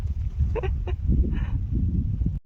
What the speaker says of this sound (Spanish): Hola, pajarito. Mira, están re cerquita.